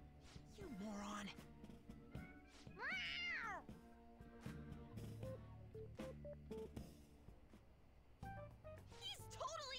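Cat meows: several rising and falling cries scattered across the stretch, mixed with talking voices and background music, fairly quiet overall.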